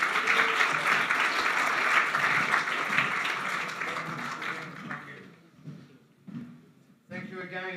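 An audience at a chamber of commerce gathering applauds. A full burst of clapping lasts about five seconds, then it dies away and voices talk in the room.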